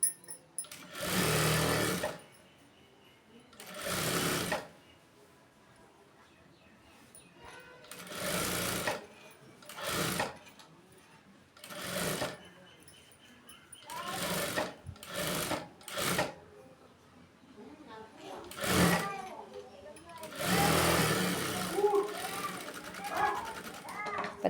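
A sewing machine stitches around a blouse neckline about a quarter inch from the edge, running in loud, repeated bursts with quiet pauses between, while someone talks in the gaps.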